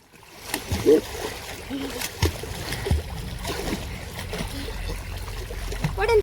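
Water splashes and sloshes repeatedly at close range as someone practises swimming in a village well, with a person's voice speaking over the churning water.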